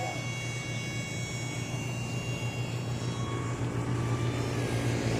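A remote-control model airplane flies with a propeller engine, giving a continuous, loud, even buzzing whine with a steady pitch that grows slightly louder toward the end.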